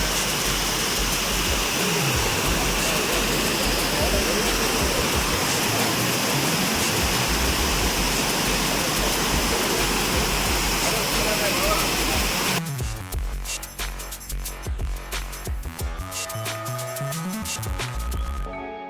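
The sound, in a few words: Amboli waterfall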